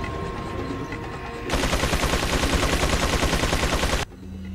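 Sustained automatic enemy gunfire in the survival horror game Resident Evil 4 on an island level, a loud, rapid, continuous rattle of shots lasting a few seconds before cutting off abruptly.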